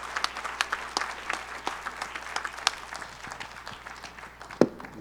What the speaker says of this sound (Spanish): un aplauso para ASIP, para festejar los próximos 100 años